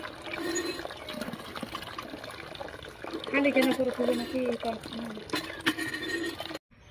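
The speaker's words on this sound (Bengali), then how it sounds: "এইভাবে অনেকক্ষণ ধরে ধুতে হবে" Grated vegetable rinsed for a long time in water for village-style bori, splashing and trickling close by with handling noises, while a voice talks over it and it stops abruptly.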